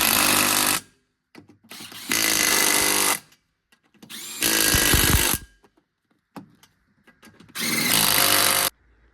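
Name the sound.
power tool tightening wheel lug nuts on Kawasaki Mule Pro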